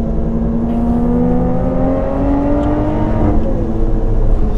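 A Lotus Evora 410 GT Sport's engine revs up loud and close, its rising pitch climbing steadily over a continuous throaty roar with no voices.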